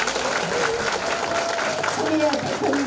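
Applause from the crowd at a campaign office opening for a county mayoral candidate, a steady wash of clapping held for about three seconds under a voice speaking over it.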